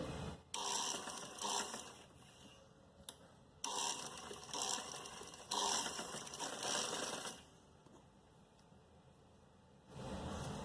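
A sewing machine double-stitches a trouser hem in several bursts of rapid mechanical whirring, separated by brief pauses, close and fairly quiet, with no voices.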